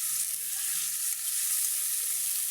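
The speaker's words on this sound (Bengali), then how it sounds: "মাছটা দিয়ে নাড়াচাড়া করতে হবে" Fish frying in a pan for a potato and aubergine curry, a steady close hiss of hot oil with faint stirring scrapes underneath and no talking.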